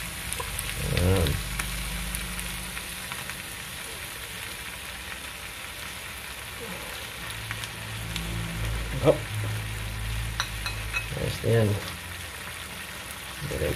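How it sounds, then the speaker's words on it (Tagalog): Dried fish (tuyo) fries in oil with a steady, soft sizzle throughout, while a few short spoken remarks and occasional clunks of handling sound over it. "Diretsong prito na yan."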